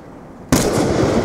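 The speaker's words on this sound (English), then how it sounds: "Waist shot with the XPR, no silencer." An unsilenced XPR sniper rifle fires once in a PC video game: quiet for half a second, then a single loud, sharp report that stays broad and sustained for the rest of the moment.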